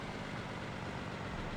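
A steady, dense BMP-1 engine drone in War Thunder rumbles without pause, loud and unchanging throughout the short stretch.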